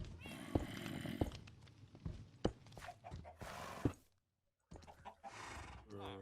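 Horse sounds from the Minecraft video game, with short whinnies and snorts in repeated bursts among clicks and game effects, and a voice talking over them.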